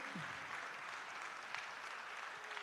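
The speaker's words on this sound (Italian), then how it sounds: "Ancora un applauso agli amici della Corsica, grazie." Steady applause from an audience, broad and even throughout, with no voices standing out.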